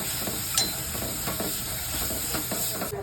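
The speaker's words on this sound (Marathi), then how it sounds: "हे वाटलेलं वाटण आहे ते टाकायचं आणि मिक्स करायचं चांगलं परतून द्यायचं" Ground spice paste for a buttermilk kadhi is stirred and sautéed in a pan, giving a soft, steady sizzle broken by short scraping strokes of the spoon, with no talking.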